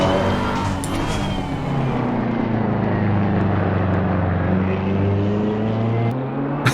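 A race car engine in the Assetto Corsa Competizione racing game, a loud, continuous droning note whose pitch sweeps down and back up through downshifts, heard alone.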